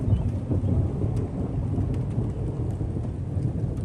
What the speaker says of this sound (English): there's hella thunder outside